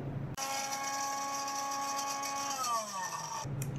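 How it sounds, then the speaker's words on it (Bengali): A kitchen blender whirs loudly and steadily as it blends mint leaves, coriander leaves and yogurt for raita, its pitch sliding lower near the end before it shuts off. "এবারে আমি এটাকে ব্লেন্ড করে নেব।"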